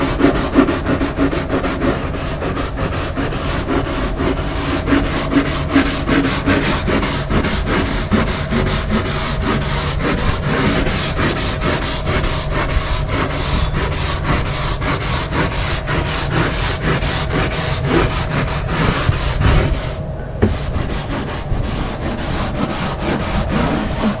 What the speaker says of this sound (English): Back to scrubbing.